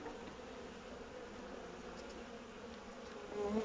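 A faint, continuous buzz of honeybees at a hive during the first inspection after winter, at close range, with a slightly louder hum swelling near the end.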